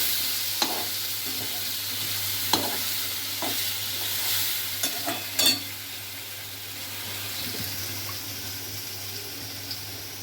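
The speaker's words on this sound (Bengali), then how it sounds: "এই ভেজানো মশলাগুলো এই আলু ভাজার মধ্যে তেলে দিয়ে দেওয়া হচ্ছে" Soaked spices going into hot oil with frying potatoes for a kofta curry, a soft continuous sizzle with scattered scraping clicks of a spoon stirring the pan, close and fairly quiet, with no talk.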